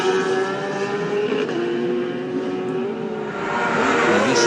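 Michael Dunlop's yellow-numbered Tyco BMW racing motorcycle at the Isle of Man TT, its engine droning loud and close as it rides off, the pitch rising and swelling near the end, with no talk.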